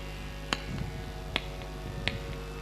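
A few single hand claps ring out at a Bhagwat Katha religious discourse, three sharp isolated strikes spaced under a second apart over a quiet room background.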